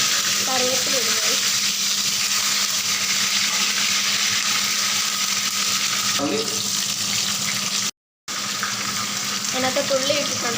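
Peppercorns, cloves and curry leaves fry in hot oil in a pan, a loud continuous crackling sizzle throughout, with brief faint voice fragments and a short dropout near the end.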